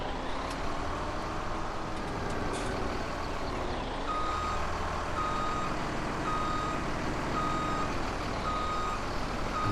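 A truck backing up in Farming Simulator 17 gives a steady, evenly spaced reversing beep over a continuous low engine rumble that lasts throughout, with no voices.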